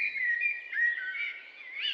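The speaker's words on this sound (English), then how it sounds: "When you hear birdsong, you tend to feel relaxed." Birdsong in a quiet natural setting: a single bird's high, continuous warbling whistle, clear and fairly close, with almost no background noise.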